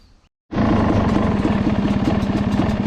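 A Yamaha YZ250 two-stroke dirt bike fitted with a light-pull cable clutch fires up after a short silence and holds a loud, close, raspy engine note with a rapid pulsing rhythm.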